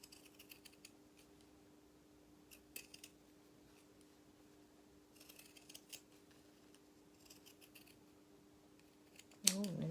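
Quiet, intermittent snipping of scissors through soft fabric in short bursts, with a faint steady hum beneath and a sharper knock at the end.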